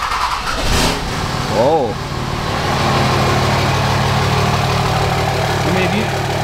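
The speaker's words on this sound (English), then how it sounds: "if you have a Cummins, you gotta have a straight pipe on it. Sounds awesome." Cummins diesel truck engine with a straight pipe exhaust, rumbling and revving loudly up close, then settling into a steady idle while a voice exclaims briefly over it.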